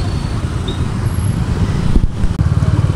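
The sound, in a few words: night road traffic in Chennai during motorcycle ride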